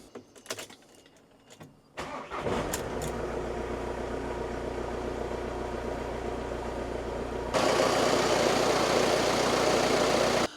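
VW Transporter van whose alternator was recently replaced: a few clicks and clunks, then the engine cranks and starts, settling into a steady close idle that grows louder for the last few seconds.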